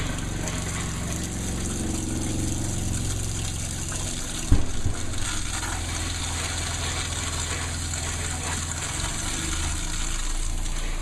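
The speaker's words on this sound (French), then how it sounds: "On part la pompe, on attend que le liquide vienne jusqu'au robinet." A water pump runs steadily, pushing antifreeze through the plumbing of a recreational vehicle being winterized, a continuous humming drone with gushing liquid and one brief knock midway, close and even.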